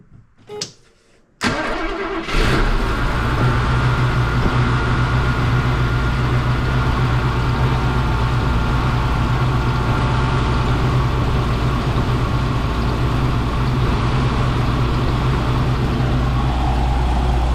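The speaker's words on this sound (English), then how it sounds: "the next thing is to fire up the engine and check the pressure" A 1972 Mercedes-Benz 350 SL (R107, 4.5-litre) engine cranks and catches after a brief start, then settles into a steady, loud idle hum that runs on unbroken to the end.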